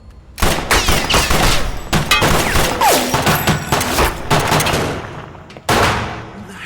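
Film gunfire: loud, dense volleys of rapid shots and bursts that run almost without a break, with one brief pause before a final heavy burst close by.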